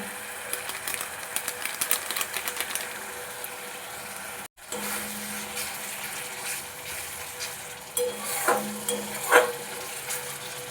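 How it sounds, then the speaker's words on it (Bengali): Ghugni masala, loosened with a little added water, is stirred and sautéed in a pan, producing a soft bubbling sizzle with intermittent spatula scrapes and a brief gap, then louder stirring and splashes toward the end. "আরও কিছুক্ষণ ধরে মশলাটা কষাবো"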